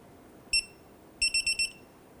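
A torque wrench tightens the lower alternator bolt on a 1994-2004 Ford Mustang 3.8L to 30 foot-pounds. It gives one short, bright electronic beep, then a quick run of four more close beeps, over a quiet background.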